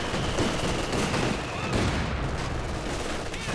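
A Maxim machine gun in Company of Heroes 2 fires continuous rattling bursts amid dense battlefield noise, with other gunfire and faint distant booms layered underneath.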